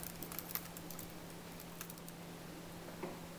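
Fingers tap out code on a computer keyboard, a quiet, irregular patter of light key clicks over a faint steady electrical hum, with no talking.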